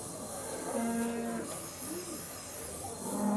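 Several cattle low at an indoor cattle show, each moo a sustained tone standing out over a steady hall murmur, one mid-clip and another building at the end.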